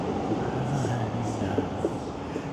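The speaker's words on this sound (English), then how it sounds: "See the train going by." A Red Line subway train passes beside a community walking path, a continuous rumbling roar with rattling and a faint high squeal as the cars go by, fairly close and steady for the whole stretch.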